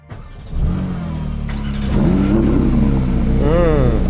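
A Porsche 992 GT3 Touring flat-six engine starts with a loud crank, settles into a rough idle, then revs with rising and falling pitch, close by, with voices over it.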